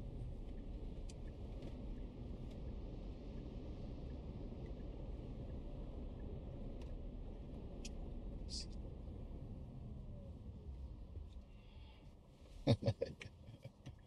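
A car cruises along the M42 motorway near Birmingham, with a steady broadband road and engine rumble heard from inside the vehicle. The noise fades near the end, where a few sharp clicks and knocks cut in.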